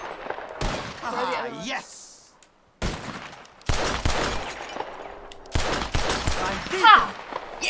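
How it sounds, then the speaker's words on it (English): Gunshots fired at bottles in Red Dead Redemption 2, a few loud sharp cracks with breaks between them, mixed with game sounds while people talk and exclaim over them. "Who can shoot the most bottles? Just draw your gun and aim when you're ready."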